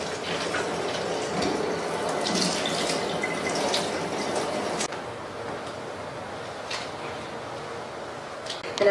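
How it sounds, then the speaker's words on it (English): Cold tap water runs over a microfiber cloth at a sink, a steady splashing stream that softens partway through as the cloth sits under the flow, with faint handling clicks. "I'm going to take my microfiber cloth, and I'm going to run it underneath cold water"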